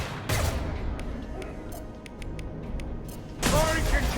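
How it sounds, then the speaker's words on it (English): Gunfire from concussive shots in Mass Effect 2, with a burst of sharp blasts near the start and another loud salvo near the end, separated by scattered quieter clicks and game sounds. "Firing concussive shot!"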